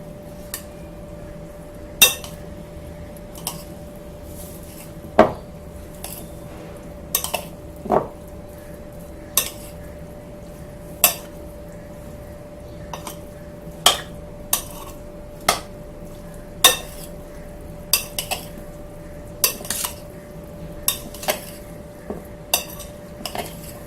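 Aloo chole chaat ingredients with coriander, mint, onion and tomato being mixed in a bowl, a spoon clinking and scraping against it in irregular sharp taps over a soft steady background hum.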